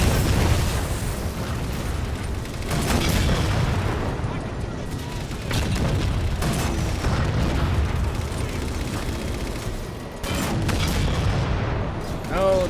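Tanks firing in Halo on Xbox: repeated heavy booms and explosive blasts over continuous battle noise, with a voice talking through much of it.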